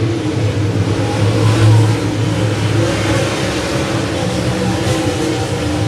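Super late model race cars roar down the backstretch of a short track, loud and continuous, with engines swelling and fading as they pass close by.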